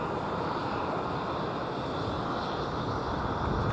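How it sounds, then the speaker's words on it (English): A Lockheed Super Constellation propeller airliner flies over an airfield, its engines a broad, steady, droning roar that stays loud throughout with a slight wind rush. "That's a Super Connie as well, I think."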